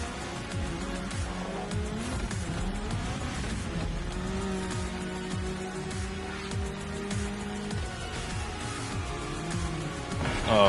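A Honda Integra races along a mountain road in The Crew Motorfest, its engine holding a steady, droning whine that rises and falls with gear changes and ends in a brief surge.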